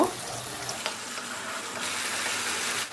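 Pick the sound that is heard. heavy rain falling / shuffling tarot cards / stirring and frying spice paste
stirring and frying spice paste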